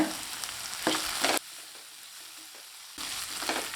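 Beans and carrot sauté over a medium flame in a pan for red flattened rice upma, giving bursts of sizzling and stirring that break off into near silence before resuming.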